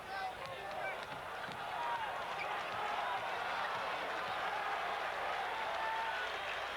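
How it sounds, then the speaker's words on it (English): Arena crowd cheering for the Iowa Hawkeyes at a college basketball game against Ohio State, a steady roar of many voices that swells slightly and holds, with a commentator talking over it. "Crowd getting behind the Hawkeyes"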